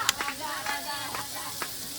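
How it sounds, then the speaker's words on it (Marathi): Mandeli and tol fish frying on a griddle pan at a village fair, a steady sizzle with occasional stirring scrapes and clicks, close up. "इकडे आपल्याला मच्छी राहिली होती आपली फ्राय करायची तेव्हा इकडे मच्छी फ्राय चालली"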